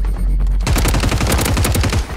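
Kastov 762 rifle fired in Warzone on Rebirth Island, heard as a dense, loud burst of rapid automatic gunfire that starts abruptly after a short lull and keeps going to the end, with no talking.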